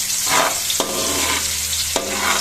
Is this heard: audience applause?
no